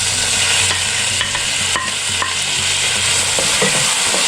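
Tomatoes tossed into well-cooked onions in a frying pan, a continuous close sizzle with repeated stirring scrapes and clicks throughout, no talk.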